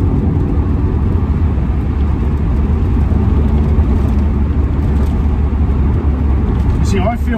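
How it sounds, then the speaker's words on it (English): An MG F car's engine induction noise in fifth gear, heard from inside the cabin as a loud, steady low roar and drone that holds throughout. "Induction noise in fifth gear."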